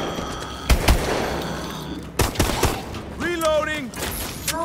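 Bursts of gunfire from the zombie shooter Call of Duty Advanced Warfare, several sharp shots clustered near the start and middle, with game effects and rising tonal sweeps toward the end.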